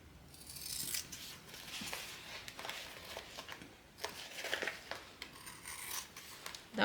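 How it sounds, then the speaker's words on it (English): Scissors trim fabric seam allowance for a small crossbody bag, a close series of crisp snipping and rasping cuts in uneven rhythm, fairly quiet with no talking. "we're going to trim our seam allowance down to 1/8 of an inch"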